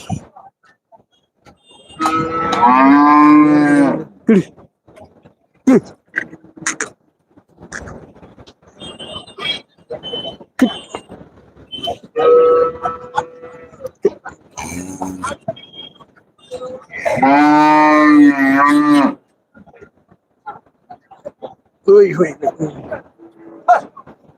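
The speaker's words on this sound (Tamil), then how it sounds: "மாடுகள் வரத்து மீடியமா இருக்கு" At the Monday cattle market in Melapalayam, Tamil Nadu, two loud, drawn-out cattle moos stand out close by, separated by stretches of people talking and scattered market noise.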